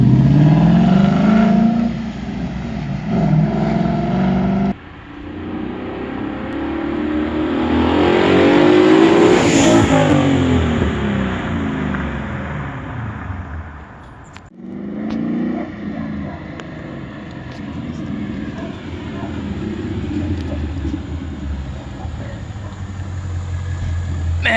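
A 2016 Ford Mustang GT, rebuilt after a crash, revs its engine hard on a test drive, climbing to a loud roaring peak, dropping back and pulling again under steady road and wind noise.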